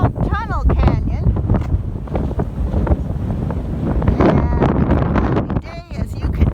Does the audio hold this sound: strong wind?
yes